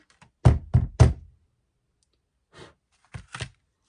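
Hole punched in paper for an eyelet while making a mini album: three sharp close knocks in quick succession, then a softer thump and two more quick knocks after a pause, with silence between.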